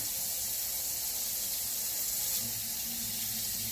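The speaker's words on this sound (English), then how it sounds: "And then I rinse it." A washed glass jar is rinsed under a running kitchen tap, the water hissing in a steady, continuous stream close by with no talking.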